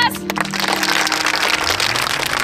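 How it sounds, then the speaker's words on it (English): A crowd bursts into dense, sustained applause after a brief pause, loud and close, with a sharp crack at the start; clapping continues steadily to the end at a village rebuilding celebration. "All right, let's give them a round of applause."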